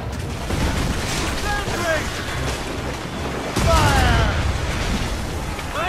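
Ship cannons fire during a naval battle in the video game Assassin's Creed Rogue, with booming blasts over steady wind and ocean noise, a louder burst near the end, while crew voices shout throughout.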